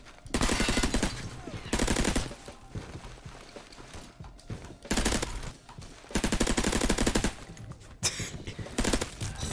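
Suppressed MAC-10 fired in Roblox Criminality, repeated rapid automatic bursts of muffled, clattering shots, each burst about a second long, close and loud, with short pauses between.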